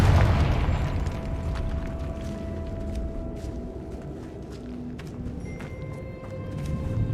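A Confringo fire spell bursts in Hogwarts Legacy with a low booming explosion at the start, then a rumbling, crackling tail fading under steady game ambience.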